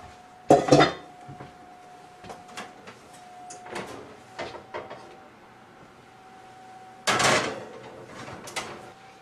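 A cornbread pan slid into an oven, with loud metallic clanks and a rattling oven rack or door at the start and again later, softer knocks in between, and a faint steady hum underneath.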